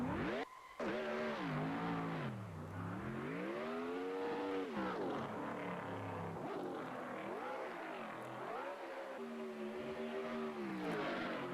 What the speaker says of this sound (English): the sounds could be improved in the cars for Assetto Corsa